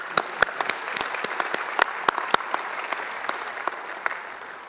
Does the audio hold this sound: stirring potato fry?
no